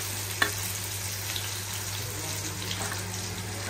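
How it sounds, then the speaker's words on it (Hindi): Chicken pieces frying in a pan for biryani, a steady close sizzle running throughout with faint stirring clatter and a brief knock near the start. "चिकन को अच्छे से फ्राई कर दिए हैं"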